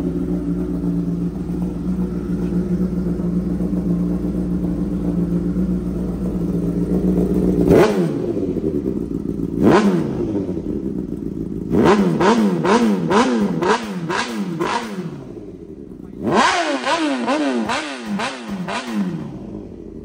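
A Honda CBR1000RR sportbike idles with a steady exhaust burble, then is revved in sharp blips, first singly and then in quick repeated bursts, loud and close.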